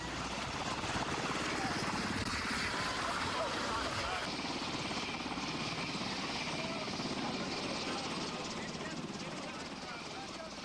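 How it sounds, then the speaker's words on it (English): Medevac helicopters land at a mountain visitor center during a 1993 blizzard, their rotors and engines making a steady, dense churning roar throughout, with a voice speaking over it. "Medevac helicopters descended into the Oconaluftee Visitor Center"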